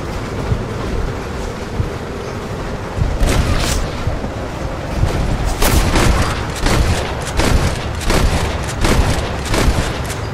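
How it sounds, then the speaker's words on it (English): Repeated gunshots crack over a rumbling train in the Red Dead Redemption video game, with bursts of firing spread irregularly through the second half, loud and close. "Stop shooting!"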